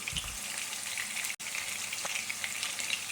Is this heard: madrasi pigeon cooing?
no